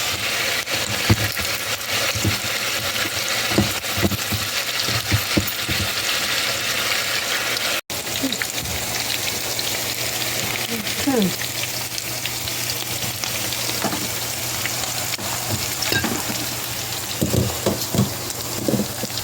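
Beef stir-frying in a pan, a loud continuous sizzle with scattered clinks and scrapes of stirring, close up and steady throughout.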